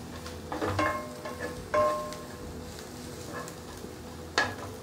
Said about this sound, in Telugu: ఈ ఉల్లిగడ్డ గోల్డెన్ బ్రౌన్ కలర్ వచ్చేంత వరకు వేయించుకుందాం